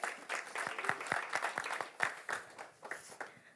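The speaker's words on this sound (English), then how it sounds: "Another round of applause, please." A crowd claps at the MTC NFA Cup launch event, sharp individual hand claps rattling out in a loose, fairly close burst of applause that thins toward the end.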